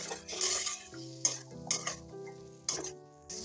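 Fresh peas and tomatoes are sautéed with spices in a pan, heard as a few close scraping stirs and soft clinks of a spoon against the pan over a faint sizzle.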